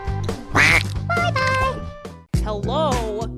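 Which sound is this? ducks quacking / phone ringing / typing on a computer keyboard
ducks quacking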